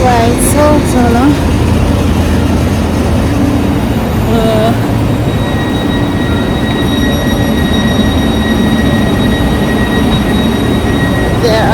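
A long train rolls steadily past on a Swiss railway, its continuous loud rumble of wheels on track running throughout, with brief high squeals from the wheels, while a person talks over it.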